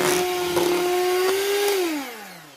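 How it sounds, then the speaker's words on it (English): A hand blender or mixer whirs steadily while mixing food for Puerto Rican pastelón, a close, loud motor hum that winds down over its final half second. "I decided to use my hand blender or mixer."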